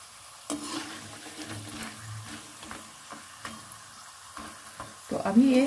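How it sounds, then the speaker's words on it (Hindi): Peanuts coated in gram flour fry in hot oil with a soft, steady sizzle, while scattered clicks and stirring scrapes mark the spoon moving them. A louder crackling burst of popping comes near the end. Quiet and close. "जब ये हो जाएगा तो एक दो मूंगफली जो है फटना शुरू होगा।"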